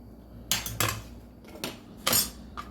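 Knife chopping pre-cooked smoked sausage into chunks on a board: a handful of sharp, close knocks and clicks in uneven rhythm, with quiet gaps between cuts.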